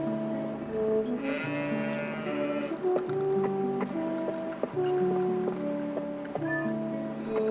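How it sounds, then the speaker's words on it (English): Goats bleat repeatedly in Zelda: Twilight Princess HD, several loud, wavering calls over steady background game music. "one of the coolest things you get to do is wrangle some goats"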